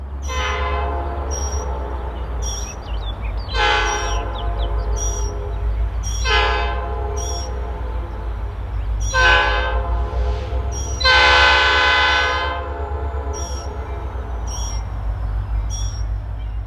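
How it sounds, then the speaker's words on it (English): A loud diesel locomotive air horn sounds in several long blasts, each echoing off nearby mountains, over a steady low rumble of a passing Norfolk Southern SD40-2 locomotive in Tennessee. "The echo of the locomotive's air horn can be heard for miles as the sound bounces off the nearby mountains"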